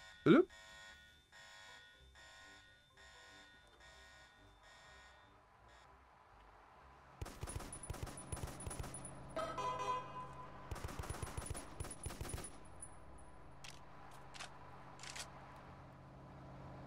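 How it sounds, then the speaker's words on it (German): Rapid bursts of gunfire in a video game during a Halloween event, a series of sharp cracks after a quieter stretch of electronic tones, with a voice speaking intermittently. "Hier schießt jemand."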